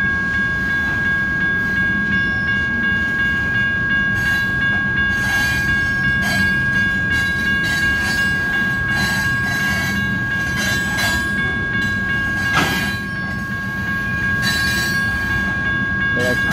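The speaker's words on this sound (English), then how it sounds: "That's got to be a heavy train there." A heavy BNSF freight train rumbles steadily past close by at a railroad crossing in Bakersfield, California, a continuous low roar with rattling wheels and brief metallic clanks throughout.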